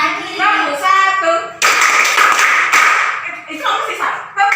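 A training group claps in unison, a rapid burst of close, loud hand claps that forms a rhythmic pattern, with talk heard before and after it.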